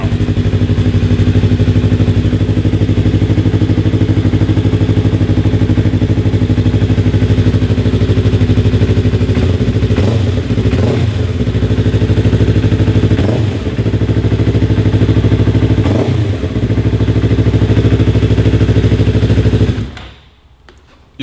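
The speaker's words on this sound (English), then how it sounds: "With the bike running now." A Yamaha R3 sportbike engine idles steadily and loud for about twenty seconds with a few brief rises in revs as the handlebars are swept, then cuts off abruptly at the end.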